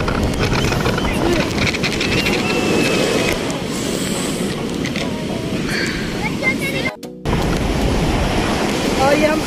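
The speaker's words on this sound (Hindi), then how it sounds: "और ये हम आगे जाते हुए शानदार लहर आ रही है।" Ocean waves roll in at Hawksbay beach in Karachi, a continuous loud surf wash mixed with heavy wind buffeting the microphone, with a brief dropout partway through.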